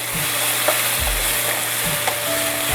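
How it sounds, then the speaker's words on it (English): Chopped tomato hits a hot pan and sizzles steadily, with a few low scraping strokes of stirring at regular intervals and no talk. "To this I am adding some chopped tomatoes."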